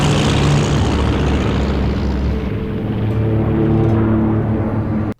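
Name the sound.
seaplane flying very low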